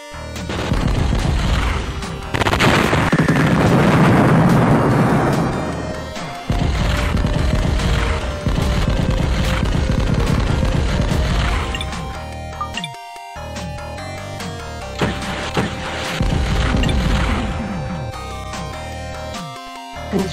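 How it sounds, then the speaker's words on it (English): A nuclear missile launch and explosion in the Dune strategy game, heavy rumbling blasts and crashing booms in long loud bursts, separated by brief quiet gaps with a faint musical tone underneath. "Nuclear missile launched."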